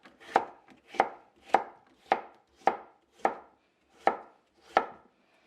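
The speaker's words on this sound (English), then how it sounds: "I'm just going to cut them into slices" A knife slices through vegetables on a cutting board for Jamaican pickled peppers, eight crisp, evenly spaced chops at a steady rhythm, close and clear with nothing else audible.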